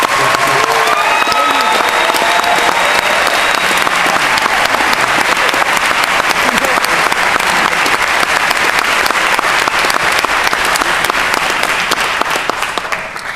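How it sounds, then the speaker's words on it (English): Parents and directors at a jazz band competition award ceremony give a loud, continuous round of applause that holds steady throughout and tapers slightly at the very end. "So we would like for parents and directors to give you all applause."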